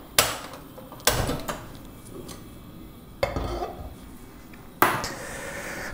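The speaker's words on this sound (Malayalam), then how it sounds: "ആദ്യം ഞാനൊരു പാന് അടുപ്പത്തേക്ക് വെച്ച് ചൂടാക്കുകയാണ്." A metal pan set onto a kitchen stove while cooking a Kerala-style squid roast, producing four loud, sharp clanks spaced unevenly over a few seconds, each ringing briefly before fading.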